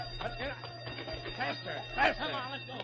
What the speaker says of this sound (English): Hey, that's the alarm.